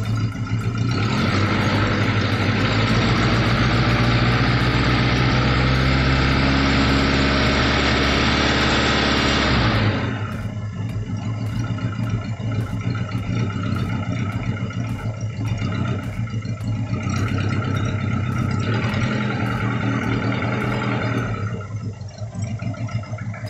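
A Daihatsu Taruna engine, just restarted after a top overhaul, revs loudly and close up for about ten seconds, then drops back to a steady idle with a few light rises in throttle.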